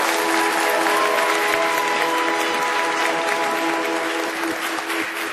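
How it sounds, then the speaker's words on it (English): An audience at a magic show claps steadily for several seconds, a loud, dense wash of applause that tapers slightly near the end. "A round of applause, please."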